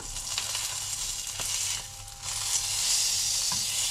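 Bass fillet sizzling and frying in a hot pan, a steady close crackle with brief stirring or spatula sounds, no talk.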